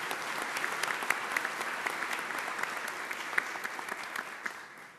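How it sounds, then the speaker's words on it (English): Audience applause at a talk on high-speed rail in Illinois, a steady wash of many hands clapping at moderate distance, fading slightly toward the end with no talk over it. "Let's give him a round of applause for Paul and HACEA."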